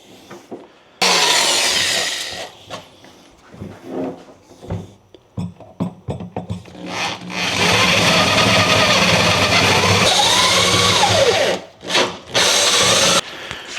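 A drill bores into wood with a 3/8 bit and a slipping chuck: short bursts and stuttering grinds early on, then a long, loud continuous whine with wavering pitch, cut off briefly and resumed near the end.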